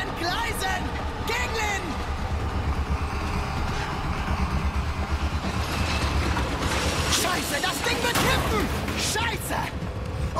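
A mine cart rattling along rails in Resident Evil 4 Remake, a loud continuous metallic rumble with clanks and screeches, under frequent shouted German dialogue and bursts of gunfire.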